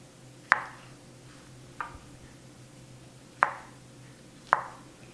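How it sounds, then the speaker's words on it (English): A knife slices through fresh mushrooms on a cutting board, giving four separate, crisp taps spaced unevenly over a quiet background. "I have about 10 fresh mushrooms that I'll slice up as well."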